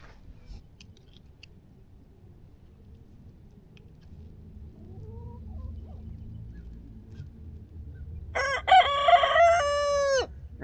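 Quiet, faint farmyard rustling and soft low chicken sounds, then a loud nearby rooster crows near the end.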